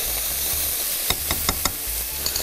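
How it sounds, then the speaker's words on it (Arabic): Onion and butter sizzle and fry in a pan of seasoned steak drippings, a steady hiss broken by a few sharp stirring clinks and scrapes near the middle. "راح أضيف البصل، راح أضيف كمية الزبدة"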